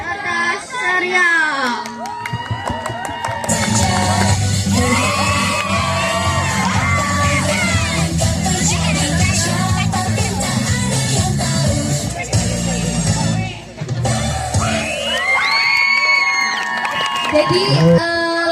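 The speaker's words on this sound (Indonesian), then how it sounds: "Tadi kan kelompoknya teriaknya paling semangat ya" A group of campers at a temple camp shouts a loud, energetic team cheer together, sustained chanting and yelling from many young voices close by for the whole stretch, with a brief dip before the shouting surges again.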